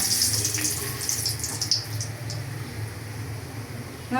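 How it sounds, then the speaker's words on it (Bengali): Garam masala and bay leaves sizzle in hot white cooking oil, a steady close hiss of frying spices running throughout with no talking. "তেল গরম হয়ে গেছে, দিয়ে দিলাম গরম মশলা, তেজপাতা"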